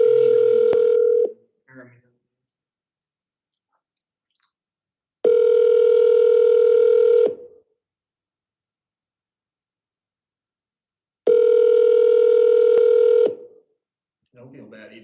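Repeated telephone call tones from a quadruple-dialing phone setup, two long steady multi-tone bursts of about two seconds each separated by silence, with brief faint sounds between them.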